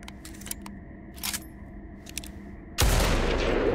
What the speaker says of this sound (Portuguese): Dá um tiro no gordão.